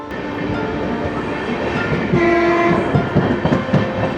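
A Coimbatore–Tirupati Intercity Express with LHB coaches rolls along steadily at about 110 km/h near Jolarpettai Junction, with a loud continuous rumble, rhythmic clacking of wheels over rail joints, and a sustained horn-like tone partway through.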